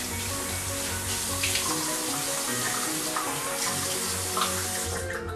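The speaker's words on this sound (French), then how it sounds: "Il se lave la figure." Water runs steadily from a tap into a sink as someone washes their face, a close, continuous splashing rush with no voices.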